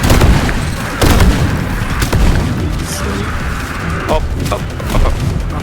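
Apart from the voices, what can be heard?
plasma exploder explosions in Deep Rock Galactic video game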